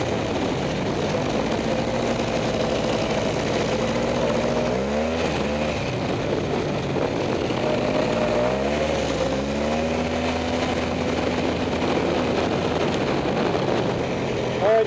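A rebuilt Polaris 400 engine running out on a ride, its drone steady and loud with pitch sweeping up and down as the revs change continuously.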